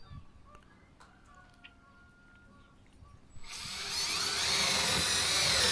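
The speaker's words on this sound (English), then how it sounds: "So just boring all the way through both sides." A drill bores a 3/8 inch dowel hole through wood for a sauna door. It starts after a quiet stretch of faint background and then whines loud and steady to the end.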